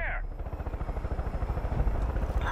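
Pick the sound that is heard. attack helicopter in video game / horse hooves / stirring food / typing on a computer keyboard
attack helicopter in video game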